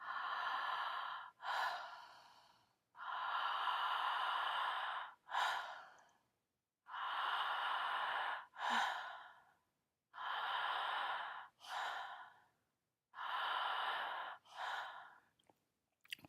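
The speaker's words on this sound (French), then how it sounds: "Inspirez une longue inspiration, expiration toute courte, douce et relâchée." Slow guided breathing with long inhales followed by short, soft, relaxed exhales, repeated in an even rhythm about five times, close and quiet with no talk.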